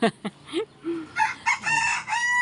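A rooster crows loudly and close by, a long drawn-out call following a few short clucks and squawks.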